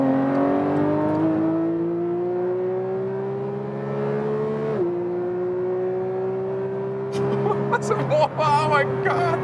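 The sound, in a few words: Porsche 911 GT3 Touring 992 accelerating hard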